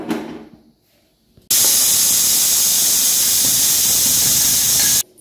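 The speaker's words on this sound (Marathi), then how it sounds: "आपली 4 शिट्टी झालेली आहे कुकरची" A pressure cooker cooking dal for South Indian sambar vents a loud, steady rush of hissing steam through its whistle, lasting several seconds close by after a quieter start, then cutting off abruptly.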